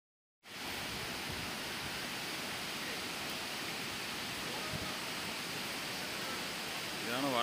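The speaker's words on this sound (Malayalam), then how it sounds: "ഇതാണ് വാട്ടർഫാൾസ്." Waterfall among steep rocky terrain in the Kolli Hills, a steady, dense roar of falling water that holds loud and constant throughout, close and enveloping with no voices over it.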